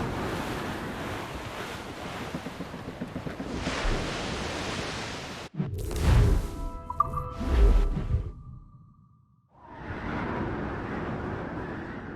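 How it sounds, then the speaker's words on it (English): Wind and ocean waves at sea from the video game Assassin's Creed Rogue, a steady rushing surf and gusting wind that briefly gives way to louder, rougher bursts, fades nearly to silence, then returns as a broad wash. "I don't like that wind, sir!"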